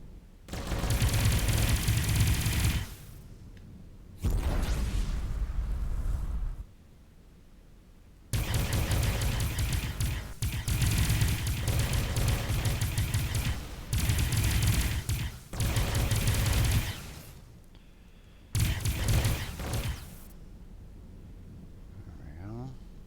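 Gunfire from an enemy ship in the space game Avorion comes in long, loud bursts of rapid fire, broken by short quiet gaps, with a voice talking at times.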